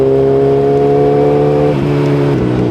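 Kawasaki ZX-10RR sportbike engine roars loud and steady at high revs, its pitch dipping twice with gear changes, no voices present.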